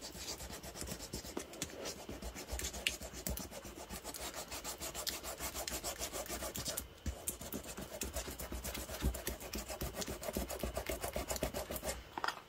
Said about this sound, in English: I'm going to take some fine grit sandpaper and just sand some of the fibers that have lifted up